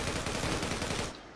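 Dense burst of gunfire in the online shooter Zula, rapid overlapping shots filling about a second before cutting off abruptly.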